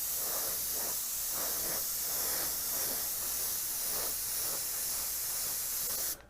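An airbrush sprays deep blue candy paint onto a model Antonov An-225 Mriya, a steady close hiss with faint pulsing as layers build, running alone until it cuts off at the end.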